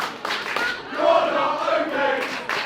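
A wrestling match crowd cheers loudly for Ali OK, rising into a sustained roar with shouted voices, swelling and dipping over a couple of seconds.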